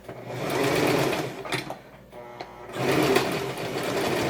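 A sewing machine stitches a dress hem, its motor whirring steadily up close, dropping off briefly for a reverse lock stitch before running again, with no talking.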